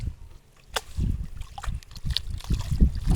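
Water trickles and sloshes as it drains from a fishing push net at a village pond, with irregular splashes and drips close by and no speech.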